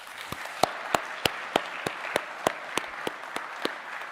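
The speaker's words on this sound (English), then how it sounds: "Please join me in giving them a round of applause." Applause at a technical college commencement ceremony, a regular run of distinct claps about three per second, moderately close over a soft diffuse crowd wash in a large hall.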